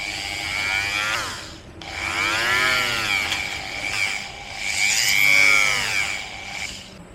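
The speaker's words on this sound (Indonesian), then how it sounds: "setelah kita bor lubang bawah ini" A power drill bores a hole in a small 2 cm handmade wooden fishing lure, giving a loud whining grind that rises and falls in three or four surges, close up and with no talk.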